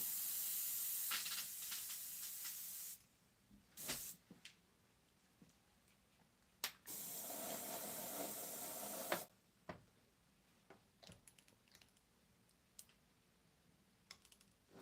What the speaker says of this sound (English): I better put a little cleaner through here.